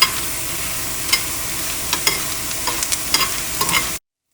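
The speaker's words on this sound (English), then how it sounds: "we're gonna roast it until the red chilies have turned a little bit dark, almost maroon, and they become crispy" Mashed rohu fish roasting in a pan with red chilies until crisp, a constant sizzle broken by scattered scraping strokes of a utensil that grow busier toward the end before stopping abruptly.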